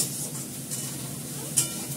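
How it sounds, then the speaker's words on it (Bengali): Ginger paste and potato stir-fry in a pan with a soft, continuous sizzle, broken by a couple of brief scraping stirs, close by and fairly quiet. "আদা বাটা দিলাম, আলুটা দিলাম, এটাকে ভালো করে কষাবো।"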